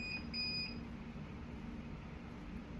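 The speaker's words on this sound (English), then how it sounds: "So it might make an annoying beeping sound, but it's good to go." A sublimation heat press gives several faint, high electronic beeps early on, signalling it has reached temperature, over a steady low hum of room noise.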